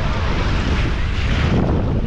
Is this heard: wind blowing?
yes